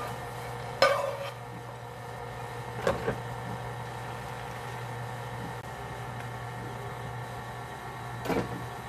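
A stand mixer running slowly while toasted pecans are added to cupcake batter, a steady low motor hum broken by a few sharp clinks and knocks in the bowl, with no talking.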